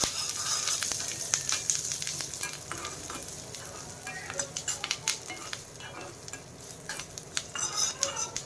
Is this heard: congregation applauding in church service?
no